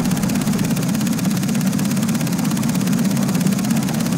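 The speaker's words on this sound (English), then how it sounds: "There's another helicopter." A helicopter in the shooter game Far Cry 3 drones with a steady, loud engine hum and a fast, even rotor flutter that holds unbroken, with no voices over it.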